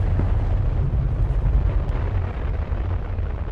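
A continuous deep, rumbling roar of an explosion in the video game The Radio Tower, dense and loud throughout with no clear attack or pause.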